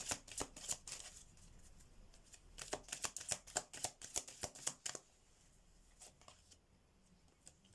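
Oracle and message cards are shuffled by hand in quick, crisp flurries of riffling snaps, close and fairly quiet, with short pauses between bursts and a softer shuffle trailing off at the end.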